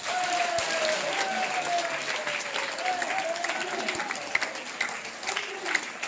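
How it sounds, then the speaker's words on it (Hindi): An audience bursts into hearty applause, a continuous crackle of many hands that holds at a fairly even level with a few sharper claps standing out near the end. "एक बार जोरदार ताली बजा दो मेरे लिए"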